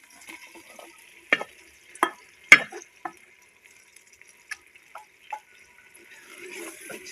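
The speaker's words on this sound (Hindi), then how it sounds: "कद्दू का पेस्ट अब मैं इसमें डालने लगा हूँ" Pumpkin paste drops into frying spices and gets stirred, giving a handful of sharp wet slaps and spoon clicks against the pan, then a soft sizzle rising near the end.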